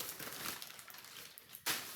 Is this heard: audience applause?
no